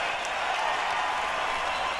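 Cheers and clapping from a live concert audience fill a recording, a dense, even roar heard from a distance with a few sharper claps poking through.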